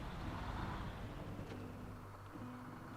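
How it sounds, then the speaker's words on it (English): A truck engine idles and revs in the SnowRunner video game, a low steady drone with shifting tonal pitch, fairly quiet and heard alone. "This one's got a pleasing engine noise."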